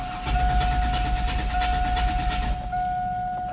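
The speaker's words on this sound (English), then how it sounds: "Crank, no start." A 2002 Chevy Astro van with a 4.3 engine cranks but does not start, its starter churning rhythmically for about two seconds under a steady whine before stopping.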